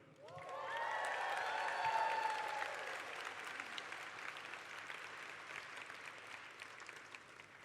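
An art school commencement audience bursts into loud applause with a few whoops as a graduate crosses the stage, the clapping peaking early and then thinning to a steady patter.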